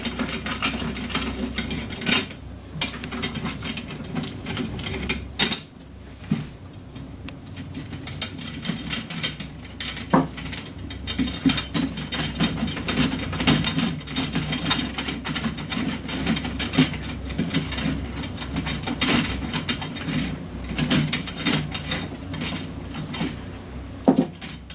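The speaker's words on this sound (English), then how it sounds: "So now I've got all the lug screws loosened and out of the lug itself." Lug screws being loosened on a drum, a steady run of metallic ratcheting and clicking taps from a tuning key turning threaded rods, close and continuous with no speech.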